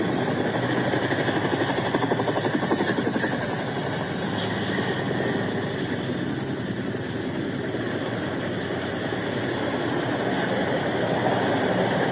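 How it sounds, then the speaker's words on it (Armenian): Helicopters fly overhead at night during an attack near a port, producing a steady, loud rotor thrum that persists throughout without pause. "Խոսք է գնում ուղղաթիռների մասին"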